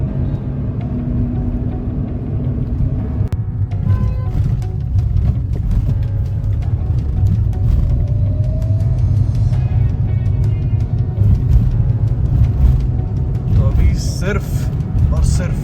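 A car drives on a road at about 7:30 on a summer evening with only its yellow projector fog lamps lit. A continuous low cabin rumble and road noise run throughout, with a person talking over it.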